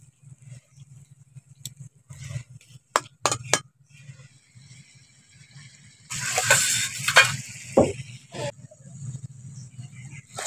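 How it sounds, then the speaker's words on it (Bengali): Fish being stirred into a curry in a pan, with scattered clinks of a utensil against the pan and a louder stretch of bubbling, stirring noise midway, then softer clinks; a voice is faintly present. "মাছটা দিয়ে ওর সঙ্গে একটু ভালো করে মিশিয়ে নিচ্ছি।"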